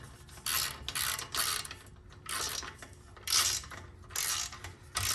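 Wrench turning bracket bolts to mount a light bar on a RZR 900 side-by-side, giving repeated bursts of close metallic ratcheting and clicking with short pauses between strokes.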